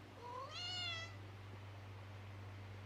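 A single clear meow from a house cat, close by with a rising then falling pitch, followed by quiet room tone and a steady low hum.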